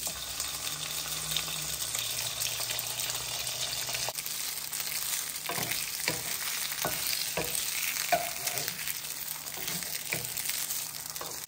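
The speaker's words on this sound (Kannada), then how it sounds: "ಬಟ್ ನಾನು ಈ ಥರ ಸ್ವಲ್ಪ ಫ್ರೈ ಮಾಡ್ಕೊತಾ ಇರ್ತೀನಿ" Cooked rava being fried in ghee in a pan, a steady soft sizzle with repeated scraping stirs of a spoon through the grains, close and continuous with no talking.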